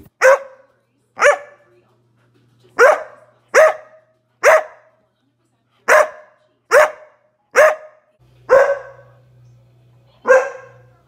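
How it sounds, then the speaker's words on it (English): A dog barks repeatedly, about ten sharp, loud, close barks spaced roughly a second apart with short pauses between them. "he just had a problem with barking"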